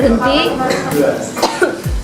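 A person coughs several times in quick, harsh bursts after inhaling spice smoke, with some throat clearing and breathy sounds between them, close up.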